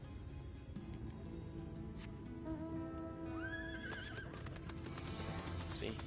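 A horse whinnies loudly in a rising, wavering call, surrounded by faint hoof clatter and a low rumbling background, from the video game Final Fantasy XIV: Shadowbringers.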